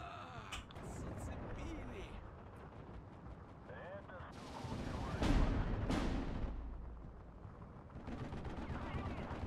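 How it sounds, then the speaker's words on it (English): Artillery and gunfire in the Steel Division 2 wargame, set in Karelia: several booming impacts and crackling shots, heaviest near the middle, mixed with battle noise and a talking voice. "Oh, the artillery is actually coming in on the left-hand side right now."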